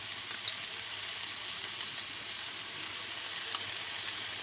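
Chopped peppers and onion with garlic fry steadily in a large pan, giving a continuous close hiss and sizzle with faint crackles and no voices.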